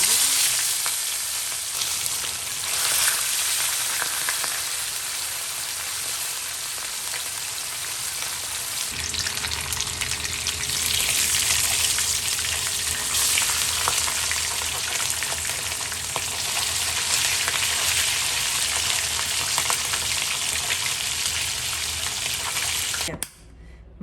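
Steady, loud sizzling of cooking oil as food deep fries until crispy, a continuous crackling hiss that runs throughout and cuts off abruptly at the end.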